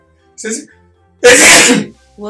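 A single loud, close sneeze bursts out between brief spoken words.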